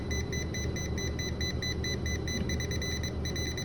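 A metal detector beeps faintly and rapidly, repeating in a steady rhythm, quiet against a low rumbling background.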